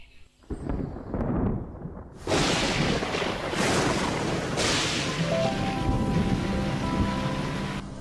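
Cartoon rain pours steadily with a sharp thunderclap that breaks in and then rumbles on, the downpour hissing loudly throughout while a faint tonal whine sits in the background.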